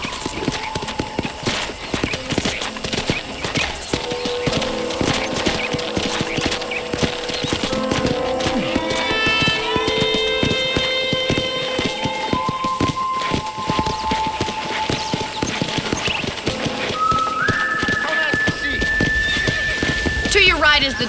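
Hooves clip-clop steadily while a horse whinnies and snorts in Red Dead Redemption, with game music and characters talking over it throughout.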